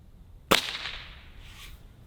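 A powerful pellet air rifle fires a single sharp, loud crack that fades quickly into a short ringing decay, heard once at close range with nothing else around it.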